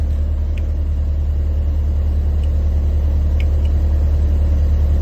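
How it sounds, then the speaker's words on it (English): An Elgin street sweeper runs steadily with its brooms engaged, giving a loud, continuous low engine rumble and hum with faint brief clicks on top and no talking. "Now I'm going to push my sweep transport mode switch to activate the brooms."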